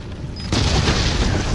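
A bomb explodes in the Resident Evil video game, a sudden loud, close boom that bursts in after a short quiet lead-in and then rumbles on.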